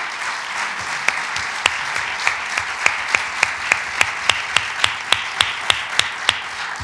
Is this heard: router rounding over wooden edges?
no